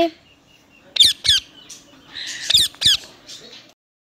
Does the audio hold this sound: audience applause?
no